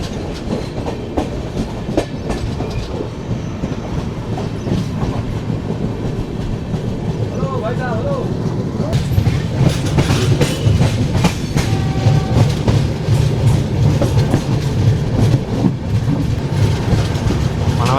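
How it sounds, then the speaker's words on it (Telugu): The Telangana SF Express rumbles loudly along the tracks while taking a curve, with steady clickety-clack wheel rhythm, a brief whine of wheels and a louder, denser roar in the second half. "చంద్రపూర్ నుంచి కొద్దిగా ముందుకెళ్తేనే మన ట్రైన్ కరువు తీసుకుంటుంది"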